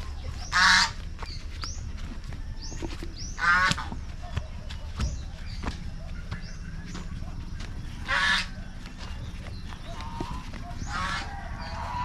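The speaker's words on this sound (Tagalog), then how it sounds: "Puntahan natin yung mga pabo natin dito." A few loud, harsh turkey gobbles burst out in short bouts against a steady low farmyard hum, separated by quieter stretches.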